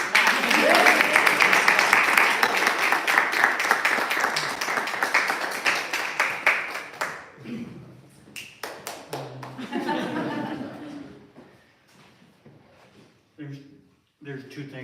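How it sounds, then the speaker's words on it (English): An audience at a poetry reading breaks into sustained clapping that dies away after several seconds, followed by scattered chuckles and a person speaking. "You have to keep applauding till they come back."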